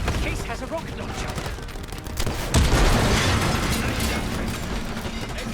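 Rocket launcher round exploding against an APC in Call of Duty Black Ops 6, a sudden heavy boom rising out of ongoing battle noise and scattered gunfire, then a lingering roar.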